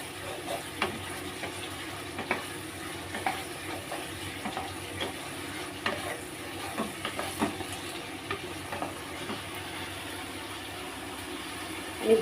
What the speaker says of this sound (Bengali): আমি এবার দিয়ে দেবো চিংড়ি মাছটা। চিংড়ি মাছটা দিয়ে আবার একটু নেড়ে দেবো।